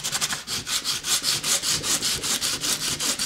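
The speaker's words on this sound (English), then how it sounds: "now we need some sandpaper" Sandpaper rubbed over red-painted cereal box cardboard in quick back-and-forth strokes, a close, steady rasping scrape of about a dozen even passes with no talk.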